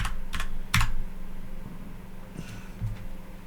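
Close typing on a computer keyboard, a few sharp key clicks at first and then a softer, steadier patter of keystrokes over a constant background hum, no talking.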